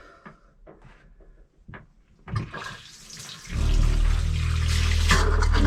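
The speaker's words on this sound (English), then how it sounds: "turn the hot water on" A hot water tap in an RV bathroom opens after a few cupboard knocks and clicks, then water gushes steadily and loudly into the sink for the last couple of seconds.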